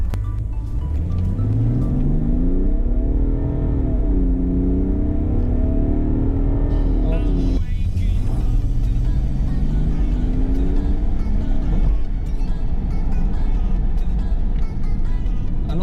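A BMW 535d diesel car engine revs up through rising harmonics to around 5,000 RPM, drops briefly, then climbs again in a second loud acceleration, heard up close and continuously with no talking.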